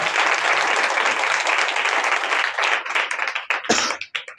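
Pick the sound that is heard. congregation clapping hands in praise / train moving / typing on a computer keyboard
congregation clapping hands in praise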